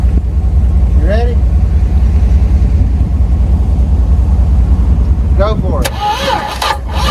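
An old Dodge engine cranks and tries to catch, its loud, steady mechanical rumble carrying on throughout while people speak nearby.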